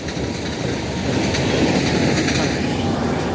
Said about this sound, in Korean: 자, 열차가 지나갑니다. KTX인 것 같습니다. 중앙선 KTX.